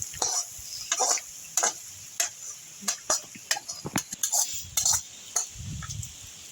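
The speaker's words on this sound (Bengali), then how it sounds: "এই যে আমার মশলাটা, ফোড়নটা ভাজা হয়ে গেছে, এবার আমি খিচুড়ির হাঁড়িতে দিয়ে দিচ্ছি" Fried spice tempering poured into a pot of khichuri and stirred, with a spatula clinking and scraping against the pot in irregular bursts over a brief sizzle, heard close up with rain noise around it and no talking.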